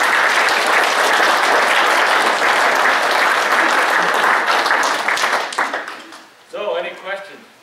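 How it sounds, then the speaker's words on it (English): Sustained audience applause fills a meeting hall for a retiring census worker, dense steady clapping that tapers off near the end before a voice begins speaking. "Let's give him a round of applause for his service."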